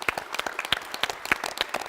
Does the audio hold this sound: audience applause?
yes